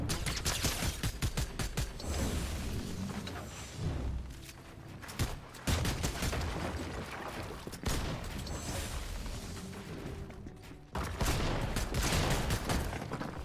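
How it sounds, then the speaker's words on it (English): Assault rifle fire in a shooter video game: rapid, dense bursts of shots that repeat in clusters through the stretch, with mechanical clicks between the bursts. "He really just wants to shoot with this AR."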